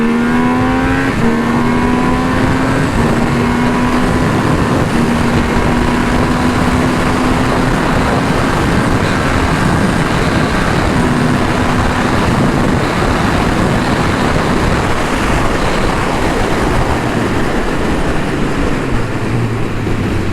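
A Triumph Speed Triple 1200 RR motorcycle, a 180-horsepower 200 kg roadster ridden in sport mode, accelerates hard, its engine note climbing in rising sweeps through several gear changes, loud and close throughout.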